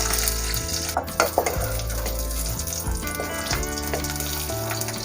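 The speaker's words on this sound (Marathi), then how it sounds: "आता मी तूप घालून ड्रायफ्रूट भाजून घेते" Dry fruits roast in hot ghee in a pot for sabudana kheer, giving a steady close sizzle. A spoon scrapes and clinks against the metal now and then.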